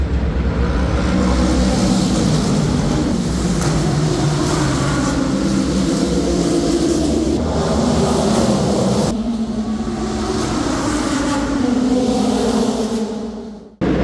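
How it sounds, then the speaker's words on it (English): Race car engine roaring loud and sustained as it passes through a tunnel at the Long Beach Grand Prix, echoing heavily throughout with a slight dip midway and a brief drop near the end. "So when there's a car that comes by, it sounds something like this."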